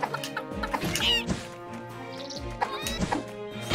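Chickens in the video game Secrets of Grindea cluck repeatedly, loud and close, in uneven bursts of sharp clucks with game hits mixed in.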